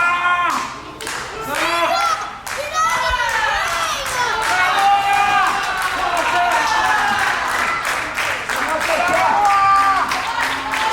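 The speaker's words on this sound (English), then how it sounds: "This crowd egging him on." A wrestling match crowd cheers and claps throughout, a dense, lively roar under an excited commentator talking over the action.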